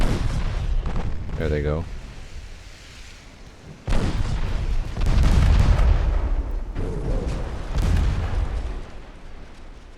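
Naval battle game set in 1896 with French warships: a rising whistling launch sound, then heavy booming impacts and rumbling explosions as torpedoes strike ships, loud and layered, with someone talking over it.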